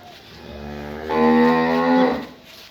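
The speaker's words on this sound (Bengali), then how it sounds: "গরু এটা খুব ভালো একটা গরু" A dairy cow gives one long, loud, close moo that swells in the middle and fades out over about two seconds.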